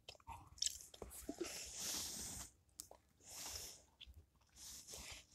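Gumball being chewed close to the mouth, soft wet bites and squishy mastication in irregular bursts separated by short pauses, quiet overall with no talking.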